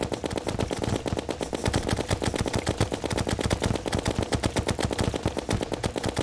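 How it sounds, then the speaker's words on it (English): Rapid automatic gunfire from the video game Terraria, with a steady, unbroken stream of sharp shots that rattles evenly and loudly throughout, with no voices over it. "We're getting shot at from all over the place"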